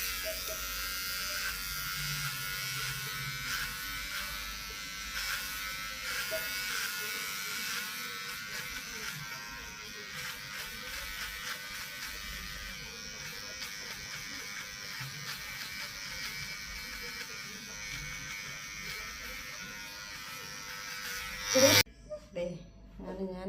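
An electric hair clipper set to its shortest guard cuts hair at home, giving a steady, close buzzing hum that runs almost continuously before cutting off abruptly near the end.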